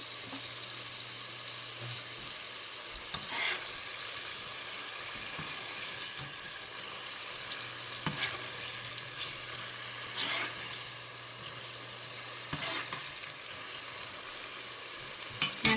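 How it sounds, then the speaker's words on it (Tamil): Steady frying sizzle of small anchovies (nethili) in oil, a constant crackling hiss with occasional louder pops, close up and without voices. "நல்லா பொரியட்டும்"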